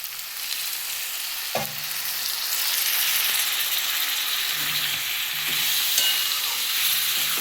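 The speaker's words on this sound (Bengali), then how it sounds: "এটা ভালো করে কষতে হবে যতক্ষণ না এটা থেকে তেল বেরোয়" Turmeric and dry spices fry in a pan with a little water, making a continuous soft sizzle with an occasional clack of a utensil against the pan.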